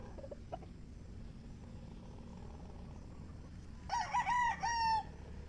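A game fowl rooster crows on a farm in a short, clear burst near the end, loud against a steady murmur of low farmyard background noise.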